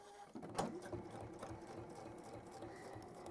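A domestic sewing machine stitches fabric on a long stitch length, starting up abruptly and then running at a steady, rapid mechanical whirr with rhythmic needle clatter, close and unaccompanied.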